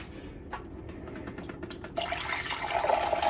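Tap water runs into a measuring cup while a cup of water is measured out for a garlic sauce for broccoli and shrimp, starting quietly then swelling into a steady, close splashing fill.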